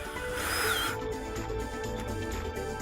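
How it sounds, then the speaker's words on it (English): A power driver whirs briefly as stainless steel screws are driven through wooden decking battens. One loud, close burst of motor noise lasts about a second, then fades into quieter background clatter. "Glue then the battens on the side before screwing them together with stainless steel screws"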